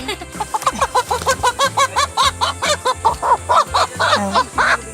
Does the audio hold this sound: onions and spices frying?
no